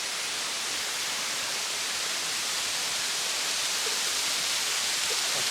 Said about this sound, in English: there's different sections of pools and waterfalls, and we made it to our first one